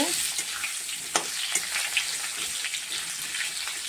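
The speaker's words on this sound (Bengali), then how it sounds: "তেলে দিয়ে দিলাম ভালো করে ভেজে নেব তেলে" Jeol fish sizzling in a little hot oil with cumin seeds and two bay leaves, a steady broadband fry hiss with occasional sharp pops and spatters, close and continuous with no talking.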